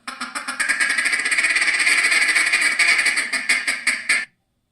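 A duck quack sound effect plays as a long, loud, rapid run of harsh buzzing quacks for about four seconds, so rough and mechanical it resembles a sputtering engine, then cuts off abruptly.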